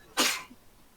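A single sharp, close sneeze bursts out loudly, then fades quickly into a quiet room.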